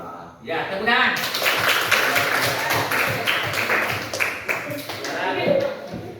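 Classroom of pupils clapping hands together in a sustained burst of applause-like claps, fairly loud and continuous, with voices mixed in throughout.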